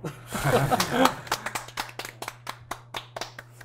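A small talk-show audience breaks into brief, sparse hand clapping at an event, a few close individual claps trailing off, following a moment of speech and light laughter.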